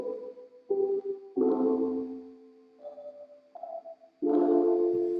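Soft tonal notes drenched in reverb with the wet signal raised and dry lowered, like distant raindrops, each phrase trailing off into a washy, distant-sounding tail with quiet gaps between.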